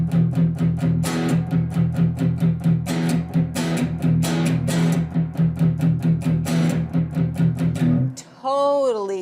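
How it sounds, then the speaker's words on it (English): An electric guitar through a Spark amp with heavy high-gain distortion strums a fast, steady rhythm of loud, gritty chords close up, ending in a brief squealing feedback-like wail. "now here it is with the distortion."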